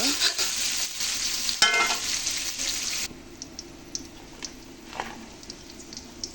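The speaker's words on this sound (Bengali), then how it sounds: "আমি তেল দিয়ে এবং সরিষাকে ভালো করে ভেজে নেব" Mustard seeds fry in oil in a pan for a fish curry, giving a loud, dense sizzle with stirring for about three seconds before it cuts to a quieter scene of scattered light clicks and taps.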